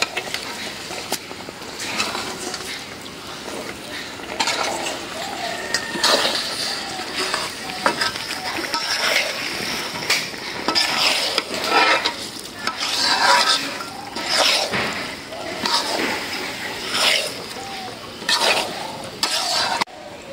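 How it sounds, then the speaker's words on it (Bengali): Washed rice frying in hot oil with spices for a tiger prawn biryani, with a continuous loud sizzle and repeated stirring, scraping and occasional metal clinks against the pot. "চাউলটা একেবারে মনে করো মশলার সাথে ভুনা ভুনা করে আলাম"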